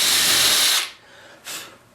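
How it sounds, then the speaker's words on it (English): Power drill spinning a 1/16 inch bit into the pilot holes for cabinet door hinges, a loud whirring burst that stops, then a second short whir, close by with no talking. "take a 1/16 inch drill bit and drill into each one of these little pilot holes"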